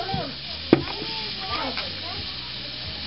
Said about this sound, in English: We're just frying them over an open fire in a